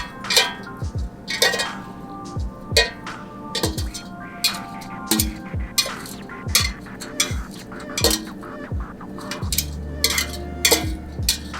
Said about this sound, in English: you can just gently unstick them with a fork